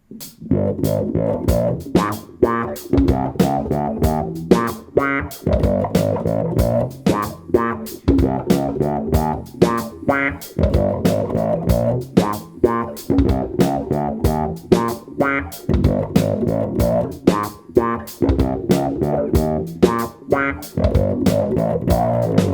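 A steady bass guitar riff repeats at about 102 beats per minute in a tight, punchy rhythm, loud and close with no voices over it.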